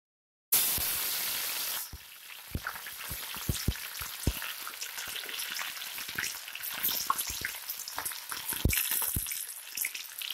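Onion frying in a hot pan gives a steady, close sizzle after a brief silence, broken by a scattering of sharp clicks and taps from stirring, with no talking.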